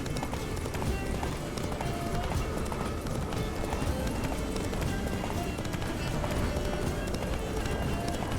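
A horse galloping in The Witcher video game, with steady, dense hoofbeats under continuous game sound and music for the whole stretch.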